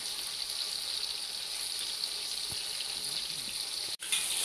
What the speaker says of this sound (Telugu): ఇప్పుడు మీరు బాండీలో నూనె ఎంత వేడిగా కాచుకుంటే అంత గమ్మున ఈ చేపలు అనేవి ఫ్రై అయిపోతాయి అన్నమాట